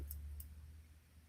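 Two brief metallic snips or clicks from scissors, close by and quiet, over a steady low hum.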